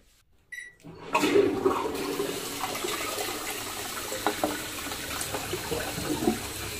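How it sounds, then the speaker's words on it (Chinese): After a brief click, a direct-flush toilet flushes with a sudden loud rush of water that settles into a steady gurgling drain, heard up close with no one talking. "直冲马桶，大家觉得这冲水行不行？"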